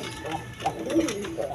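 A pair of quality-bred pigeons, a cock and hen, coo softly up close in short rising-and-falling phrases over a couple of seconds.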